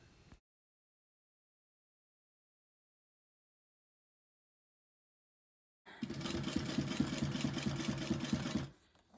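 A sewing machine stitches steadily through a scrap fabric strip along a tote bag seam, a loud, close, even mechanical whir after several seconds of silence, stopping abruptly.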